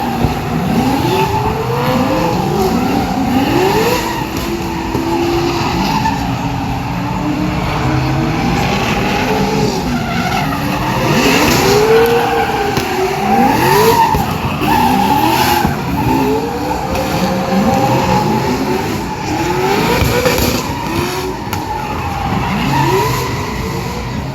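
Drift cars at the MotorEx Hot Wheels drifting show slide with repeated rising and falling tyre squeals over revving engines, a loud and continuous run of skids throughout.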